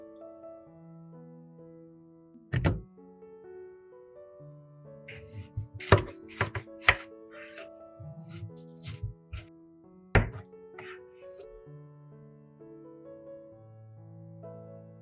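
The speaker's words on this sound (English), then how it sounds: "Cut the melon into 4 pieces." A knife chops through a watermelon, cutting it into four pieces: several sharp, distinct thunks spaced a few seconds apart over soft background music.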